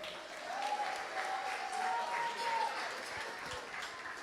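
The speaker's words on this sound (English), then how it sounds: "Give another applause for Sarah, everyone." Wedding reception audience applauding, a dense, steady wash of clapping from a crowd, fairly close and sustained for several seconds with faint cheering or voices mixed in.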